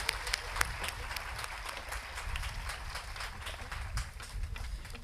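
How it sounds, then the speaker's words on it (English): Audience applause at a school graduation ceremony, dense sustained clapping from a large crowd with sharper individual claps standing out, steady throughout and moderately distant. "let's have a round of applause for all of them."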